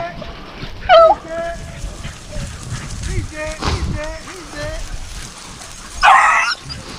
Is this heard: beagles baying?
yes